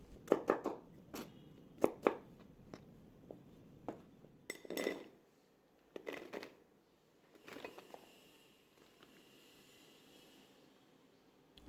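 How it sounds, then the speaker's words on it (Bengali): A knife chops raw mango into small pieces on a board, giving a run of sharp, irregular taps and knocks close by. The cutting quiets partway through, leaving faint handling clinks. "এবার ছোটো টুকরো করে কেটে নিচ্ছি"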